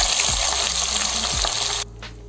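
Onion sizzling in hot oil with mustard seeds for a stuffed brinjal curry, a loud, close, hissing sputter that cuts off sharply near the end, leaving a quieter background.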